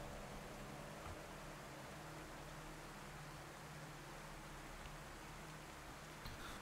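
Rain in the DayZ game world falls as a constant, even wash of hiss from start to finish, soft and unbroken with no voices.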